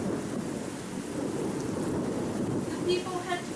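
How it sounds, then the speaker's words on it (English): Thunder crashing during a sudden storm, a deep rumbling roar that fills the whole span at steady loudness, with brief higher tones near the end. "Lightning flashed across the sky, and thunder crashed with a frightening,"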